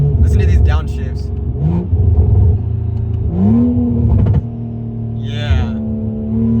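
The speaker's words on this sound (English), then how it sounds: "Listen to these downshifts" BMW 340i fitted with a big turbo and an exhaust dump, engine revving through several downshifts with rising blips and rumbling bursts, loud and close, while someone talks over it.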